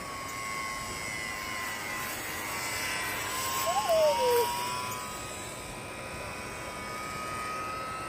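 A small E-flite UMX Timber STOL radio-controlled plane passes overhead with a thin electric motor whine that rises briefly, then fades, over steady outdoor background noise.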